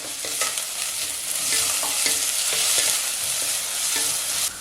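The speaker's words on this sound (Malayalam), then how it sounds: "ഇതെല്ലാം കൂടി നല്ലപോലെ വഴറ്റി ഈ സവോള ഒന്ന് വാടിയാൽ മതി." Onions and green chillies sauté in a pan with a bright, continuous close sizzle and repeated scraping strokes of a spatula stirring, no voices present.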